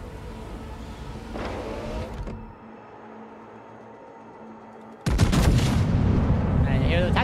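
Naval guns of a Japanese T9 cruiser, the Daisen, in World of Warships: a low rumbling battle ambience broken by loud, heavy gun salvos. A sharp, booming burst near the end is followed by sustained roar.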